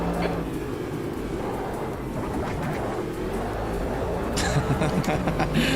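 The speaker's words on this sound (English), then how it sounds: "the curb noises are definitely cracking me up now" A race car in Automobilista 2 drones along at speed with a steady engine roar, then rattles over a curb near the end with a brief, rough burst of rumbling, loud and continuous.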